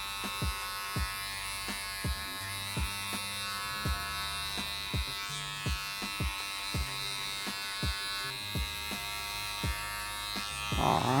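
Electric hair clippers buzz steadily while cutting a bald fade, with a rhythmic series of sharp clicks and taps recurring every half second or so, fairly close and alone without talk.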